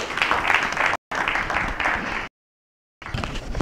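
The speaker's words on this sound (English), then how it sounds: "A big round of applause for Chris, please." A live event audience gives a round of applause, dense clapping in bursts broken by abrupt silent gaps.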